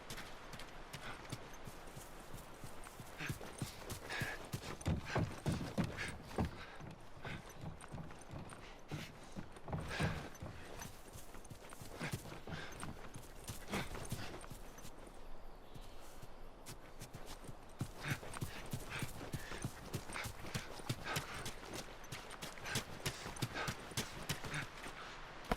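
Horse hooves clip-clop in The Last of Us at a ranch, a steady rhythmic walking beat that runs for about 25 seconds at moderate volume, with no voices.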